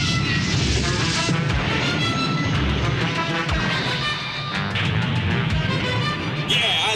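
An animated battle in Robotech: The Macross Saga crackles with rapid gunfire and repeated booming explosions, a dense, loud barrage of bursts and crashes that keeps going throughout.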